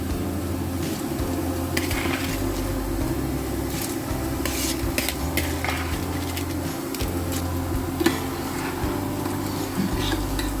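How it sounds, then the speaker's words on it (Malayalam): Washed rice is added to boiling water with spices for a mushroom dum biryani, giving a steady bubbling, sizzling rush with scattered splashes and scraping of a pot. "അപ്പോൾ നമ്മൾ കഴുകി ഊറ്റി വെച്ചിരിക്കുന്ന റൈസ് ഇട്ട് കൊടുക്കാം."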